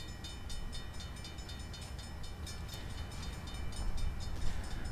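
A locomotive rolls through a level crossing in a train simulator game, giving a steady rumbling hiss of rail noise with faint rhythmic clicking, swelling slightly near the end, with no horn and no talking.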